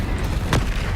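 Incendio fire spell cast in Hogwarts Legacy: a single short booming burst, loud and close, over a dense rumbling game background.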